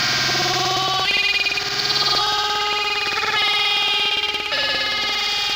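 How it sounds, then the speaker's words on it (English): Dense, loud sampled music time-stretched in OctaMED 4 on an Amiga warbles and stutters continuously, its sound smeared and grainy, with no voices. "So there's that time stretch effect"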